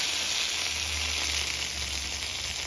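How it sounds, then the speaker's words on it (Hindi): Steady, close crackling sizzle of hot oil tempering with mustard seeds being poured into roselle flower chutney, continuous and fairly loud, with no talking. "और ये तड़का चटनी में डालेंगे।"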